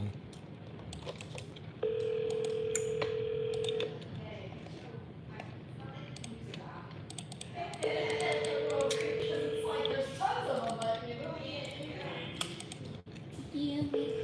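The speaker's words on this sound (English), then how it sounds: "Answer the phone." A telephone rings in a real estate office, giving two long, steady electronic tone bursts a few seconds apart amid keyboard tapping, clicks and faint background voices.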